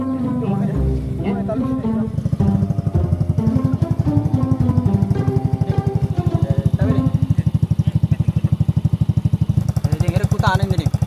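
A motorcycle engine idles with a steady, rapid low putter throughout, close and fairly loud, while people talk over it and music plays in the background.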